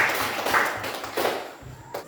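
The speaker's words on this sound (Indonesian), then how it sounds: "Tepuk tangan dulu." Schoolchildren in a classroom clap their hands together in a short, uneven patter of claps at moderate volume, fading toward the end.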